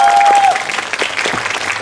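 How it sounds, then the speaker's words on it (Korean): An audience applauding loudly at a live talk event for the film Missing as the actors and director are welcomed, a brief dense burst of clapping following a short steady electronic tone. "여러분 큰 박수 부탁드리겠습니다."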